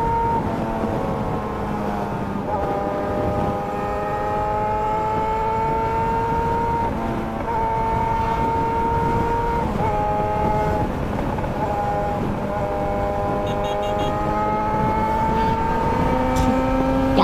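A motorcycle running flat out at the track's speed limit gives a steady, high-pitched engine whine that holds close and loud throughout, with small pitch dips and rises as the throttle shifts.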